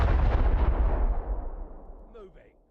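A cannon in the Rise of Piracy naval video game fires one loud booming blast that rolls off into a long fading rumble, with brief voice-like sounds near the end.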